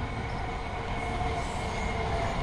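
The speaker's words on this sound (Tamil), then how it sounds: "ட்ரெயின் போகுது பாருங்கள்." A train passes by near flats in Urapakkam West, a steady loud rumble of rolling wagons and wheels on rails that holds throughout, without talk.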